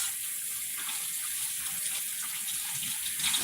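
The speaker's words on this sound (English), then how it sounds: "first thing we do is wash our nasty hands" Water gushes steadily from a kitchen tap as hands are washed, a continuous close hiss with a little splashing and no talking.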